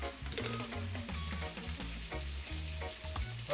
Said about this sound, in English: Looking for that sexy sizzle that we're always talking about.